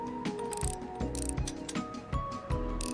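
A small screwdriver clicks and ratchets in quick bursts while screws are backed out of an electronic device during a repair, close and crisp.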